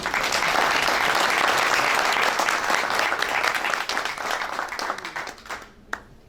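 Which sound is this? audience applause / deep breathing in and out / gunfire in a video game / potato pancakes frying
audience applause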